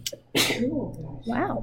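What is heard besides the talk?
sneeze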